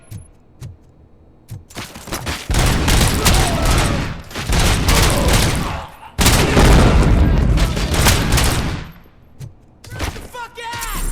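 Gunfire bursts from the RoboCop film, loud rapid volleys in two long stretches with brief gaps, mixed with shouting voices and booming impacts.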